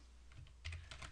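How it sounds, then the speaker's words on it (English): Quick, faint keystrokes on a computer keyboard while entering a SQL query, a handful of close, light clicks in a short burst with no talking. "so you can type"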